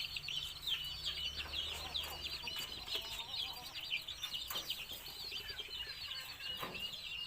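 Chickens cluck and chirp continuously nearby, a busy flock chattering at moderate volume with no talking.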